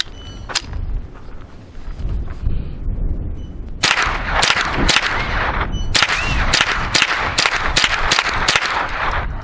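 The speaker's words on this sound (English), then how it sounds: "right now I did bring some of this Winchester M22, so we're going to fire 10 rounds through the original magazine" An Adler RF224 rifle fires Winchester M22 rounds through its original magazine: a few isolated sharp reports, then a rapid string of about ten loud, close cracks with echoing tails.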